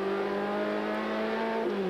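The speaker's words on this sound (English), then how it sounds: "Reynolds, Hal Needham, car number 33 Buick, coming on the track." A number 33 Buick stock car at the 1982 Daytona 500 roars onto the track, its engine a loud, steady, close drone with a sustained pitch throughout and no voices.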